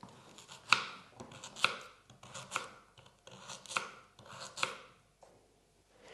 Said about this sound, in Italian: Li vado a tagliare a pezzettini piccoli.